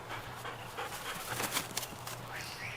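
Heavy, rapid panting from a dog drooling on an outing, a steady breathy rhythm close by amid outdoor background noise.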